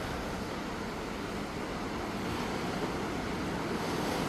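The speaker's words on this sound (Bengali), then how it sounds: "ঢেউগুলো, এটা আসলে একটা ভাটার সময় ছিল" Ocean waves wash onto a tropical beach at low tide, a steady broadband rush of surf blended with wind, continuous and moderately loud, with no voices.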